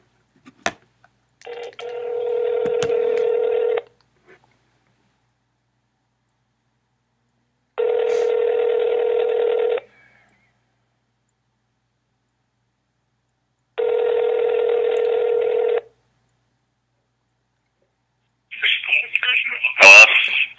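An outgoing phone call rings through a receiver with three evenly spaced buzzing ring tones, each about two seconds long with long silent gaps between them, ending in a brief burst of pickup noise.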